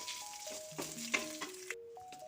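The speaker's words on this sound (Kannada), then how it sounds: "ಎಲ್ಲವನ್ನು ಚೆನ್ನಾಗಿ ಹುರಿದುಕೊಳ್ಳುತ್ತೇನೆ" Spices and asafoetida are dry-roasted and stirred in a pan for sambar powder, giving faint scraping and sizzling under soft background music.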